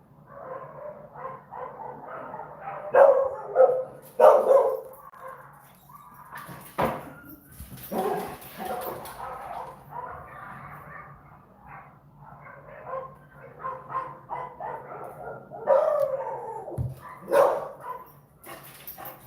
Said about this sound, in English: The dog's having a dispute.